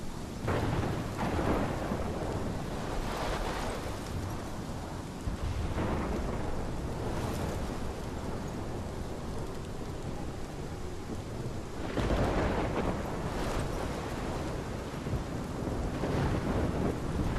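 Thunderstorm in the video game Life is Strange: rolling thunder rumbles and cracks over a steady wash of heavy rain, with loud booming peaks near the start and again partway through, no voices.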